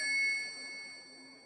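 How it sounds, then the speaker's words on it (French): A single bell struck once, a clear ringing tone that decays slowly, quiet and alone. "C'est le son de la cloche."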